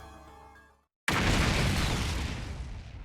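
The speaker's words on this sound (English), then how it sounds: "An explosion suddenly echoed across the room." A bomb explosion in a video game: a sustained musical tone cuts to a brief silence, then a loud, wide boom rumbles and roars on for seconds without fading much.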